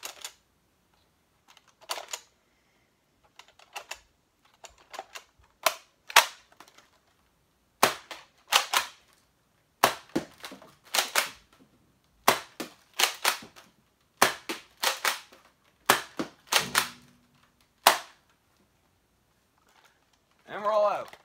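A Nerf Rival Cronos blaster snaps off a string of sharp, distinct shots loaded with X-Shot or Adventure Force rounds, about a dozen clean pops spaced unevenly across a quiet background, with brief speech near the end.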